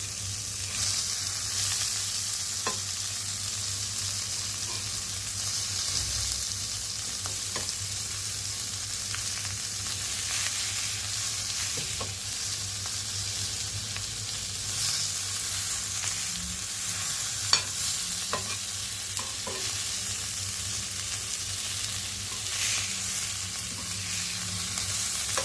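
Fish frying on a tawa, a steady close sizzle that runs unbroken throughout, with a few sharp clicks and scrapes as the pieces are turned. No one speaks.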